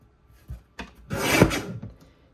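A paper trimmer slices strips from a scrapbook page in a short, close sliding cut with a few light clicks before and after, and no one speaking.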